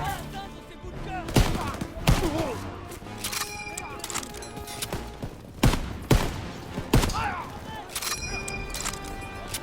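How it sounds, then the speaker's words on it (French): Machine guns firing on a position in the Call of Duty WW2 video game: sharp gunshot bursts and single cracks ring out irregularly over a battlefield din, with several louder blasts standing out among rapid fire. "ces mitrailleuses tirent sur notre position!"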